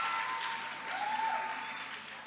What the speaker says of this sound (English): Please, a round of applause once again for these amazing people.